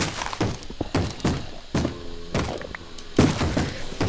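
Wooden thunks and thuds from the video game Minecraft, modded Hexxit survival, arriving as several separate knocks spread irregularly across a few seconds, moderately loud and unaccompanied by speech, fitting a door opening or closing nearby.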